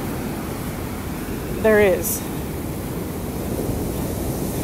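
Strong ocean waves with rip currents roll in at Jacksonville Beach, Florida, on a foggy December morning. The surf makes a steady, broad wash throughout, briefly overlaid by a short spoken phrase.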